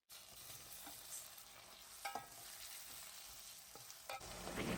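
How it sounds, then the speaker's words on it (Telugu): Tomatoes and onions cook together in a pan for a tomato egg curry, a faint, steady sizzle with a few soft stirring scrapes and taps. "టొమాటోలు ఉడుకుతున్నాయి కదా"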